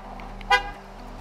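A 2003-2007 Honda Accord sounds a single short horn chirp on locking, close by, over a steady low hum.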